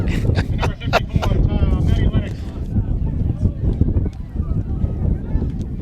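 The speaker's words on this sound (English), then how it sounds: "we definitely got the windy side of the press box" Heavy wind buffets the microphone in a constant low roar in a high school football press box, with scattered voices and clatter breaking through in the first couple of seconds.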